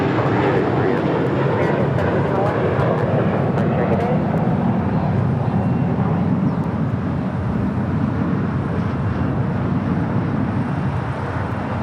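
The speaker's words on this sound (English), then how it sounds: "Korean Air 747 making those final turns, heading into the southwest side of Tom Bradley" A Korean Air Boeing 747 on final approach into Los Angeles International Airport gives a broad, steady engine roar and rumble, loud and sustained throughout, with a faint whine on top and some wind buffeting.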